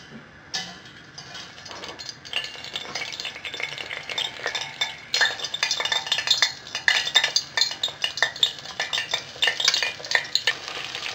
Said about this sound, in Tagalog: i-deep fry na natin yung chicken wings